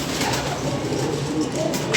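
A pigeon, a Faisalabad breed, coos softly amid steady background noise with some faint voices mixed in.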